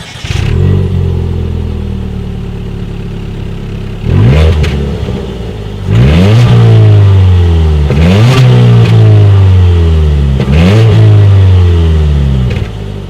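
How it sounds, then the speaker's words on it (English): A 2019 Ford Fiesta with a single exhaust revs loudly and close up, rising in repeated sweeps that fall back to idle between blips, with several throttle pulls in a row. "As always, here is that exhaust clip"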